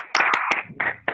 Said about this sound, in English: Let's give Maddie a big round of applause.